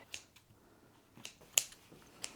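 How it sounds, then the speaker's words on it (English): Scissors snip bobbles off a thick-threaded fabric on a 1977 chair, giving a few faint, sharp clicks spaced irregularly and heard up close, with no voices. "some of the bigger chunks we'll just cut with scissors because this is quite a thick thread fabric"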